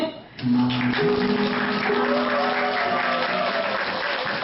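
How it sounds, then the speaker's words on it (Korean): Wedding guests at a small-theatre ceremony applaud as the couple makes their recessional march, sustained crowd clapping over loud music with melodic tones. "행진할 때 여러분들의 큰 박수와 환호성 부탁드리겠습니다"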